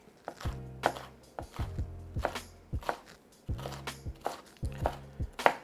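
Red and green bell peppers being diced with a sharp knife, crisp chops landing on a cutting board in uneven bursts, close and clear with short pauses, no talking.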